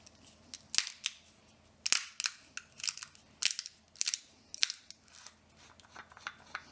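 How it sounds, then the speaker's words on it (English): A nut is cracked by hand, giving a series of sharp, dry cracks and crunches, about a dozen uneven snaps close up in a quiet room. "with me cracking this nut"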